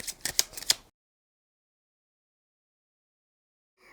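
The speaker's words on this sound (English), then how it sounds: "I'm going to shuffle and then see what we have for the general reading" Fin de Siècle Kipper cards shuffled briefly at close range, a few quick crisp taps and rustles in under a second, then silence.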